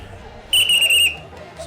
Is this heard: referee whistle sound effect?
yes